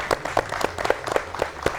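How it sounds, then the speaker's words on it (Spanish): An audience at a political forum breaks into applause, a dense, uneven patter of many hands clapping for under two seconds at moderate volume, with no speech over it. "yo quiero pedirles a ustedes un aplauso"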